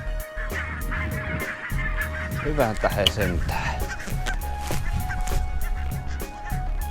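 Flocks of geese calling along a riverside in September, many overlapping honks in a busy, continuous chorus from moderately far, with a man's brief spoken exclamation mixed in.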